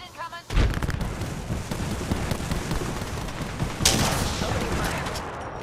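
Gunfire from a video game shooter: a sustained barrage of rapid, loud shots and impacts with a fresh burst near the middle, a faint voice buried beneath.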